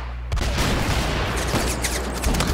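Rapid gunfire in the Phantom Forces first-person shooter game, a loud, dense burst of shots and booms that continues without a break.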